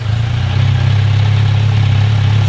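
Kawasaki Versys 1000 fitted with a Holeshot slip-on exhaust, street core installed, idling steadily with a low, even rumble that stays constant and fairly loud throughout, no voices.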